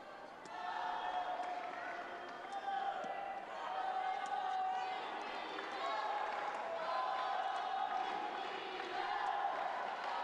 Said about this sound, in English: The crowd here at the Subic Gym starting to get a little noisy.